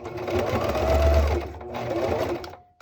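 A sewing machine runs steadily in a continuous, close burst while zigzag stitching around binding straps, its motor whir holding level before stopping abruptly at the end.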